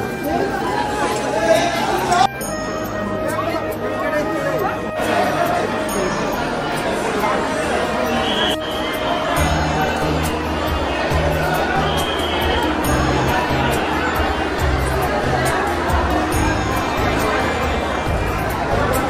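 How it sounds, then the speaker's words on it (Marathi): A dense, loud crowd murmurs and chatters without pause in the packed darshan queue at the Akkalkot Swami Samarth temple, many voices overlapping into one continuous babble with occasional clicks and knocks. "खूप गर्दी होती. तिथे पण गर्दी आहे. खूप गर्दी आहे."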